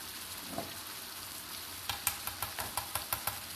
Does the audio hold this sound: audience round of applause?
no